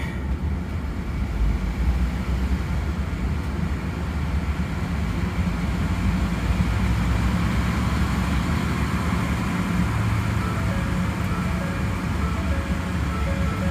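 A 2011–2014 Ford EcoBoost engine runs steadily on a dyno with the brake off, a continuous loud low drone and hum holding through the whole stretch with no talk over it.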